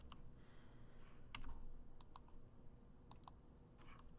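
Quiet, close computer keyboard typing with a few sharp clustered key presses, including repeated taps of the tab key, heard alone.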